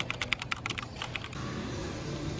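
Typing on a HyperX Alloy FPS RGB keyboard with linear Cherry MX Silver switches, a quick run of crisp, close key clacks lasting about a second before giving way to soft background hiss.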